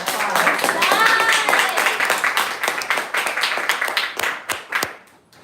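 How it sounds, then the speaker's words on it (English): An audience at a devotional gathering claps in a round of applause, dense and close at first, then thinning to scattered claps that fade out, with voices mixed in. "Give him a round of applause."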